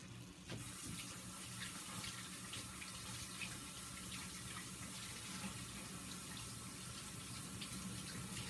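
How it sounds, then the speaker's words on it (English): Hands being washed again under a running kitchen tap while cooking eggs: a steady, close gush and splash of water that runs continuously, with no voices. "And I'm washing them again."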